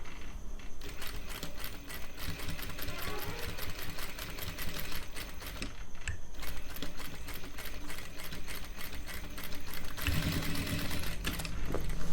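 A sewing machine stitching fabric for a tuxedo suit runs steadily and loudly at close range, giving a continuous rapid mechanical clatter with brief pauses and changes in speed.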